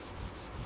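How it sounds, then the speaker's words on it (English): Steady, soft abrasive rubbing of 220-grit sandpaper lightly knocking down nibs on a finish, close and continuous with no pauses or voices. "So I'm sanding down the nibs with some 220."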